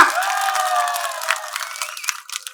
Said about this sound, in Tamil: எங்க ஆண்கள் எல்லாம் கொஞ்சம் கை தட்டி கொடுங்களா